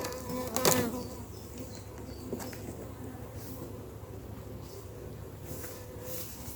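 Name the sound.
honey bees buzzing around an opened hive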